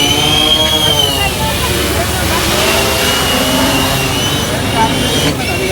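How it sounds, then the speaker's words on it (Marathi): At a project competition, a participant's drone climbs upward with a continuous high, buzzing propeller whine whose pitch shifts as it rises, loud and close, over a steady background of crowd noise and voices. "हे बघू शकता, आपलं ते पार्टिसिपंटचा एक ड्रोन आहे."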